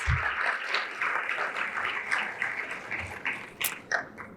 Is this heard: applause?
yes